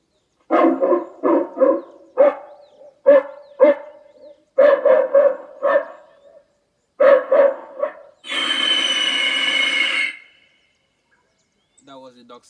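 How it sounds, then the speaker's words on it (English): Recorded dog barking played through the loudspeaker of a solar-powered audible bird scaring device: several clusters of loud, sharp barks over about eight seconds, followed by a brief burst of harsh noise. "That was the dog sound."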